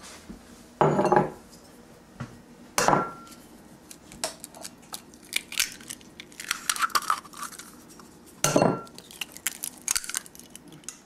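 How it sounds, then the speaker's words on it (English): Two eggs cracked into a bowl in a home kitchen: a few sharp knocks of shell against the rim spaced seconds apart, between lighter clinks and shuffling of dishes, with no talking. "So now we're going to break 2 eggs."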